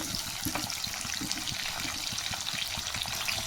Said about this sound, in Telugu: ఆయిల్లో కొంచెం కొంచెం వేసుకుని ఫ్రై చేసుకోవాలి.